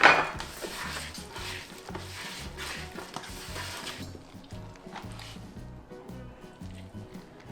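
Water parsley salad being mixed by hand with salt in a bowl, a steady close wet rustle and soft clatter of dish and utensil running throughout, louder at the start and easing slightly after a few seconds.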